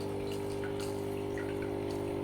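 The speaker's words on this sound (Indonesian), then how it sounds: "Nah gini guys jadinya, jadi kayak air terjun" Water from an aquarium filter spills like a small waterfall into a simple aquascape tank, a steady trickling flow over a constant motor hum, no talking.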